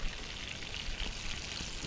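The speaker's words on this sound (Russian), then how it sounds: "Это выкипает здесь влага, которая есть в рыбе" Salted fish fries in a pan as its moisture boils off, a continuous close crackling sizzle like light rain that keeps a steady level throughout.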